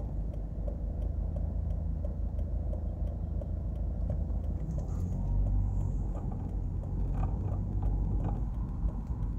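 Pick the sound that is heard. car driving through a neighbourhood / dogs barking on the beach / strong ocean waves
car driving through a neighbourhood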